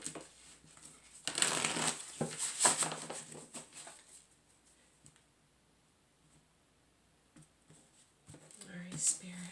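Tarot cards shuffled and pulled at a reading table, a dense burst of papery riffling and flicking early on, then quieter handling, with a speaking voice heard around it.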